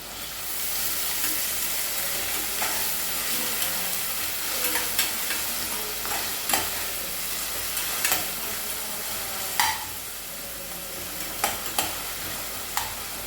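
Onions sautéed with a little salt in a pan give a soft, steady sizzle, broken by scattered sharp clicks of a spoon against the pan at close range, and no one speaks.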